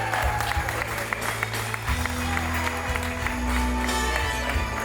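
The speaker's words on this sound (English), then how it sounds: "Round of applause for our ladies and gentlemen." Wedding guests at The Addison of Boca Raton clap for the wedding party in a steady crowd patter, with music playing underneath and some cheering mixed in.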